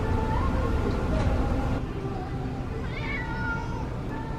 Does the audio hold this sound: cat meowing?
yes